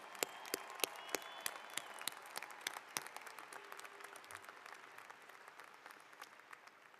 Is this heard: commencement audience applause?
yes